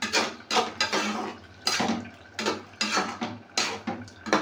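A spoon scrapes and clanks around a cooking pot while jackfruit curry is stirred, repeated rhythmic metallic scraping strokes close by with no talking.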